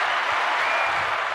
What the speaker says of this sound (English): We got to give her some claps for that.